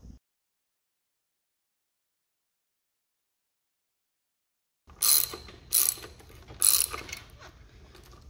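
A torque wrench ratchets while tightening hinge pins on an early Alpha One transom bellows: after long silence, three or four short, close, metallic clicking bursts in quick succession.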